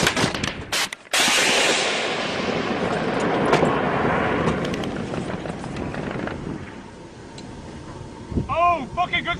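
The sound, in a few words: rifle gunfire with American ammunition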